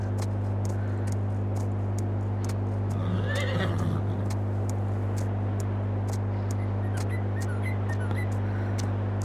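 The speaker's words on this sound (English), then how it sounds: "slowing down as we approach the other horses, just down to a nice little trot" A horse in the video game Moss Valley whinnies once in the middle, with faint hoof clip-clops over a steady low hum and ticking game ambience.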